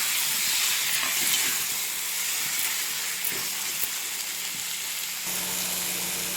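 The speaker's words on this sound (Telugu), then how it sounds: "టమాటాస్ని వేసుకుందాం టమాటాలను అయితే వేసుకుందాం వేసి బాగా కలుపుకుందాం" Tomatoes added to roasted onions and stirred in a hot pan for a dried fish egg curry: a loud, steady frying sizzle and hiss close by, with light stirring knocks scattered through it.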